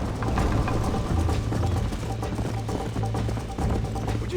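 Galloping horse in the Red Dead Redemption video game, a steady low rhythmic drumming of hooves mixed with ambient game sound, continuous and fairly loud throughout.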